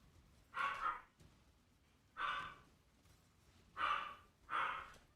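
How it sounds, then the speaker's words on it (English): A dog barks in four separated bursts, somewhat distant and muffled, with quiet gaps between them and no talking. "Dog going crazy."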